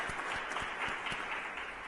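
Audience at a cultural heritage public outreach event applauding, a faint, brief burst of scattered hand claps at steady pace, heard at a distance with no voices.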